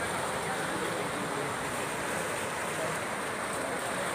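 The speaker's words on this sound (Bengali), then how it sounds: "মাঝখানে রাস্তার ওপর দিয়ে পুরো নদী বয়ে চলেছে" The Dulung river, swollen by days of rain, rushes fast across a road in an unbroken, even wash of noise, fairly close and with no pauses or other sounds standing out.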